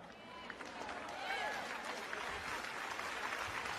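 Audience clapping during a sermon, a faint, steady patter of hands heard from a distance in a large hall, with voices in the room.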